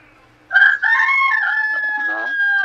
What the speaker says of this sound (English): Was that a rooster or no?